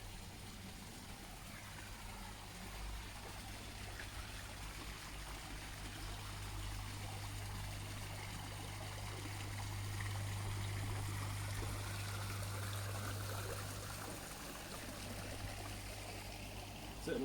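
An aquarium air stone bubbling steadily in a container of potassium permanganate pond treatment for koi, a continuous soft trickling wash that swells slightly midway, with no voices.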